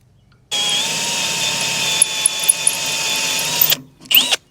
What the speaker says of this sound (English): we should be able to just take our drill and come into that bushing we welded in